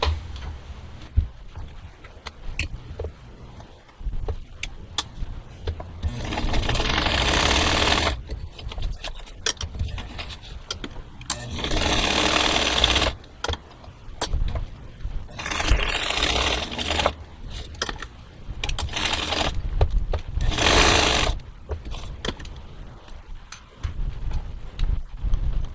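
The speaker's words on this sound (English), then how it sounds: "then I'll sew around this one" A vintage sewing machine sews fabric for country fall apple bowl fillers, whirring in several loud rattling runs of a few seconds each, separated by quieter stretches of handling and light clicks.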